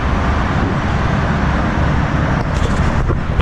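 A 2015 BMW M4 Competition idles in sport mode, giving a steady, dense low rumble that holds evenly throughout, heard from inside the cabin with no talking.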